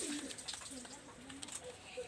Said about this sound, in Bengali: খুব মার্কিংয়ের একটা কবুতর